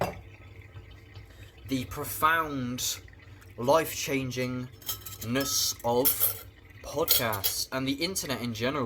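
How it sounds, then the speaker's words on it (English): Dishes being washed at a sink, with cutlery and plates clinking and water running in the background beneath someone talking continuously close to the microphone. "now I'm doing the fucking dishes, so that is why you hear that"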